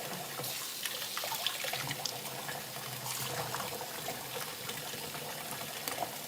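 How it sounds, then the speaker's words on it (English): Seeded grapes being rinsed under a running kitchen tap, a steady close splash and trickle of water into a sink that continues evenly throughout with no talking. "All right, wash them off real good."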